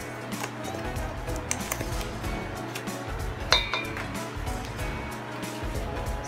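Powdered milk and salt are mixed in a bowl, producing continuous clinking and scraping of a utensil against the bowl with rhythmic rattles, close and steady throughout.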